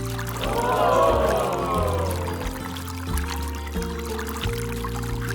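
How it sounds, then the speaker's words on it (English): Water pours into a Lego Technic car built as a water pump, a steady splashing pour loudest in the first two seconds and then easing into a softer trickle, with steady music-like tones underneath. "Let's fill the water into it."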